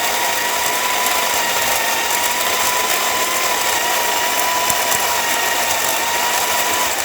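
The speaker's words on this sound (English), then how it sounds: "And there you have it, Zacconi grinding once again." Zacconi coffee grinder running after its stuck adjustment ring was freed and set coarser, giving a steady, continuous whirring grind with a faint mechanical rattle, close and alone throughout.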